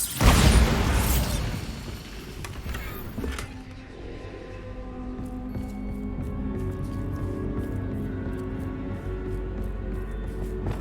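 A Bombarda blasting spell from Hogwarts Legacy on PS5 goes off in one loud, broad burst at the start, then fades into a long rumbling, ringing tail of debris and magical resonance with no voices.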